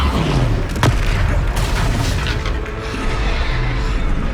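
Confringo spell explosion in Hogwarts Legacy: a sharp blast with a deep booming rumble that lingers under dense, noisy game sound.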